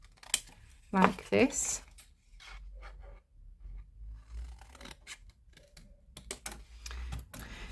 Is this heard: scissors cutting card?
yes